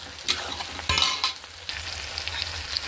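Chopped onion, slit green chili and capsicum pieces fry in hot oil in a pan, giving a steady close sizzle with a few scraping stirs and no voices.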